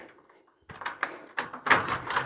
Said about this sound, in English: Let's go out this door.